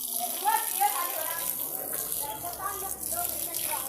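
Water gushes steadily from a hose or can onto garden plants in planter bags, a soft continuous splashing under a nearby voice speaking.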